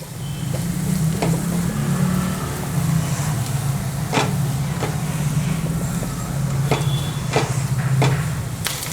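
Shallots, grated coconut and curry leaves fry in coconut oil with a constant close sizzle, a low hum underneath and occasional sharp crackles and spoon clinks.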